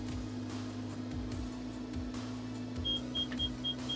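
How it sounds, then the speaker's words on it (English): Faint, evenly spaced high-pitched beeps from a hay baler's bale-full alarm repeat from a distance over a loud, steady engine drone. "Alarm should be going off soon."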